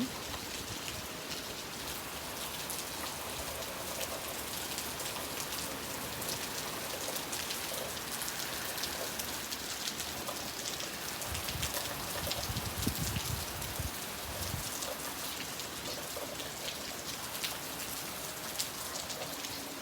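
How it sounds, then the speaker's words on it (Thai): Steady rain falls continuously, a dense even hiss of drops with no voices. "ให้ดูสายฝน"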